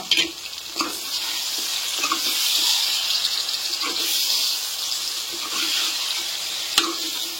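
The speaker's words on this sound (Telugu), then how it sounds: "ముందే కడిగి పెట్టిన చికెన్ అయితే వేసేసిన" Washed raw chicken goes into hot oil in a pan for a Telangana-style chicken curry, producing a steady, loud hissing sizzle with a few clatters and stirring knocks over it.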